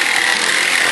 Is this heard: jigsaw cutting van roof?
yes